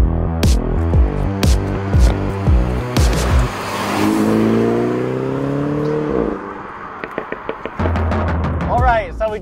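A MINI John Cooper Works with a newly installed performance exhaust revs loudly in repeated throaty bursts, then holds a rising whine before dropping off, with voices briefly audible near the end.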